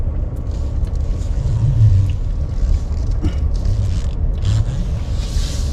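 A car rolls slowly into a crowded parking lot near a lighthouse in Acadia National Park on a Labor Day weekend afternoon, a steady low engine rumble with faint creaks and road noise throughout, no talk.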